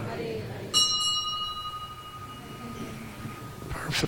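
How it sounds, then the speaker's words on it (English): A single bright bell struck once during an evening temple gathering, its clear ring decaying slowly over a few seconds against a quiet room with faint background noise. "It seems like the bell rang itself."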